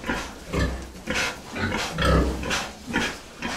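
Pigs, a sow with a boar, grunting close by in a rhythmic series of low, rough grunts roughly every half second, loud and steady with no talk.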